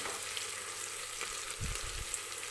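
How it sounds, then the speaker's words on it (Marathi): Continuous loud sizzling of onions frying in hot oil for mutton biryani, a dense crackling hiss with a couple of low bubbling bursts near the end. "नंतर कांदा तळायला घ्यायचा"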